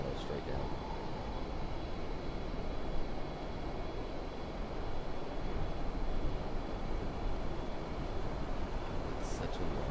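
Airplane engine throttling down in Microsoft Flight Simulator, a steady broadband roar holding at an even level throughout with no pauses.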